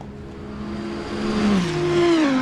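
Audi race car in a sim racing game, engine revving and climbing through the revs with a steady harmonic whine that rises, dips and swells louder, no talk.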